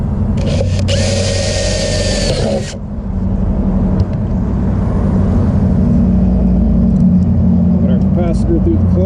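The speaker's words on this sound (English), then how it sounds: "So just gotta drill a new hole." A power drill whines steadily for a couple of seconds, drilling a new hole while fitting a start capacitor to a Dometic RV air conditioner, then stops, leaving background rumble with voices talking.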